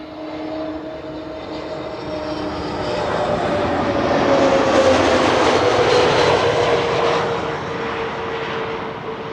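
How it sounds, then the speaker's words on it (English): An Airbus A320neo airliner arriving at Schiphol Airport on the Kaagbaan runway passes overhead, its engine roar swelling from a distant whine to a loud, broad rush and then fading slightly, with a steady tonal hum throughout. "A320neo arriving from Malta."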